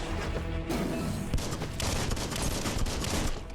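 Dense gunfire from the video game Biomutant, a continuous loud fusillade of overlapping shots and blasts that runs through the whole stretch with little pause.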